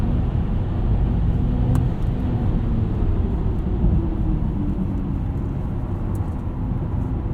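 Steady, loud road and drivetrain rumble from a 2022 BMW iX xDrive50 electric SUV pulling hard on a night drive, a dense continuous low hum and tire roar with a faint click partway through and no talking.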